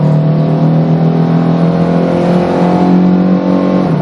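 A Camaro pulls hard in second gear toward about 80 mph, its engine droning loud and steady with a rising harmonic whine throughout, close and continuous with no talk.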